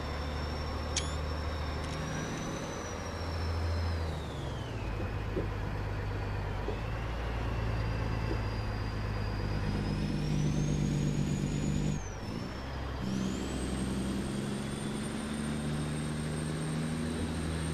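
A Freightliner truck with an automatic transmission driving on Alaska ice roads in American Truck Simulator: a steady low diesel engine drone with rising and falling whine as it shifts gears, constant throughout.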